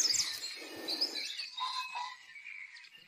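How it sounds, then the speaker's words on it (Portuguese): Songbirds in Malta, mainly European robins with some blackcaps, give high chirps and twittering calls, fairly close and continuous over a quiet background. "Eu trouxe vários pássaros, principalmente pisco de peito ruivo, mas também tem algumas tout negras"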